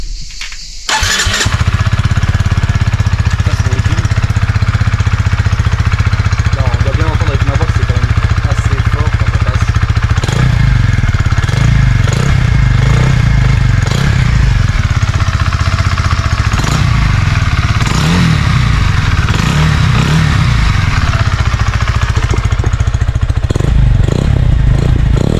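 A motorcycle fitted with a new aftermarket exhaust, inside a garage, fires up with a sharp start, then idles roughly before being revved loudly again and again in bursts, close and echoing.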